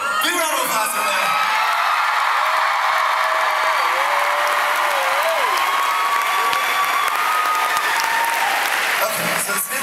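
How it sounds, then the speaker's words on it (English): A big outdoor concert crowd at Merriweather Pavilion applauds the tour crew, loud continuous clapping with whoops and cheers, and a voice speaking over it. "big round of applause for them"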